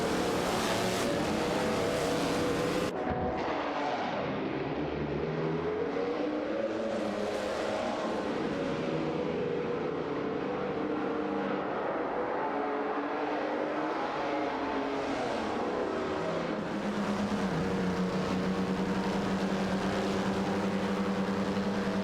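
Race cars, among them an Auto Union Type D, roar through a racing video game, with engine tones that rise and fall continuously as the cars accelerate and pass by, loud and steady with no talking.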